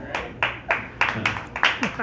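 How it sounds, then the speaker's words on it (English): Hands clap in a loose, uneven rhythm of about eight sharp claps, close and fairly loud, with a voice briefly audible near the end. "Claps are like the worst way of telling somebody you're doing good"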